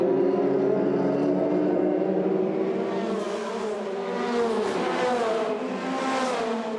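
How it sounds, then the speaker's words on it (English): Formula Renault Eurocup race cars pulling away together for the formation lap on the Pau street circuit, a loud layered chorus of revving engines rising as the cars accelerate off, with no voices. "as they take off for the formation lap of this 2nd race here in Pau"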